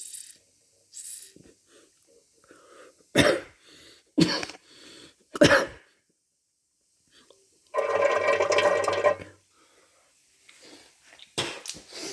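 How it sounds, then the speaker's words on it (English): Someone coughs and clears their throat in short, harsh bursts after breathing vinegar fumes while cleaning corroded Weber carburettor bowls from a VW Beetle, with a longer wheezy rasp midway and quiet pauses between. "you inhale the fumes, they make you cough"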